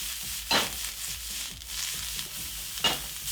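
Vegetables fry in a hot pan of olive and canola oil blend, giving a steady sizzle with two sharp bursts of louder hissing as food is stirred or tossed, nearby and without voices.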